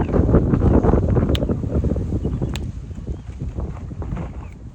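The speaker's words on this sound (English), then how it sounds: "Oh, it's windy." Strong wind buffeting the microphone outdoors while fishing, in loud, rumbling gusts that ease slightly toward the end, with no voices.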